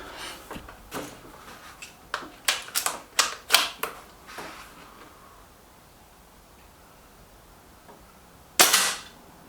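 Several sharp air rifle shots from an Artemis M11, fired at a range in loose succession with short gaps, followed by one final louder crack near the end. No one speaks.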